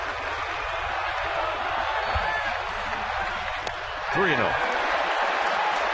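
A baseball crowd in the left field bleachers at a Pittsburgh at San Francisco game cheers and applauds with a steady roar that swells louder near the end, running beneath a commentator's talk.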